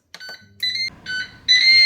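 A series of electronic beeps from a Ninja Speedi air fryer: several short tonal bursts in a row, fairly loud and close, with a brief clatter just before.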